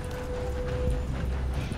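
Hooves clip-clop in a steady rhythm as a horse moves in the Western video game Red Dead Online, over a continuous low rumble.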